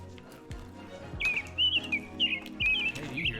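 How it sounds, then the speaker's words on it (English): A bird chirping sound effect plays during a livestream, with a series of short, bright chirps and tweets over low background game noise and soft thumps. "It sounds like a bird."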